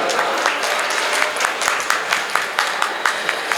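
A small audience at a Hindi poetry recital claps throughout, a dense patter of applause with sharper individual claps standing out, fairly close and continuous.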